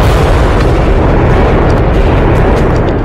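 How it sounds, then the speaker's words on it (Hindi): A loud bomb explosion on a busy street produces a dense, sustained roar of low rumble that fills the whole stretch and slowly fades at the end. "तभी हुआ एक जोरदार धमाका।"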